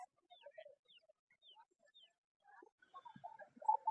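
Chickens, fighter-breed chicks among them, at a poultry and bird market in Gulistan, Dhaka, give faint scattered clucks and chirps, with a louder burst near the end and quiet voices in the background.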